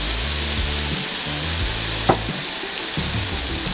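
Shrimp and soy sauce hiss and sizzle on a hot griddle, a steady, close frying crackle with a brief sharp tap partway through.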